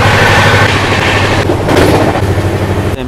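The Prasanthi Express passenger train rumbles along loudly and close, with heavy low-end clatter and a rushing roar, and a sharp jolt near the end.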